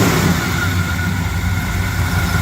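A 1947 Chevrolet Thriftmaster pickup truck engine runs steadily close by, a loud continuous mid-pitched rumble with slight swells as it is revved, no voices.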